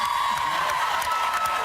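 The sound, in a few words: studio audience applause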